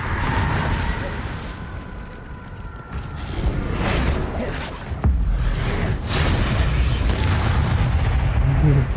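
Confringo spell explosions in the video game Hogwarts Legacy, a few booming, whooshing blasts with mechanical creaks over game ambience, a player speaking briefly.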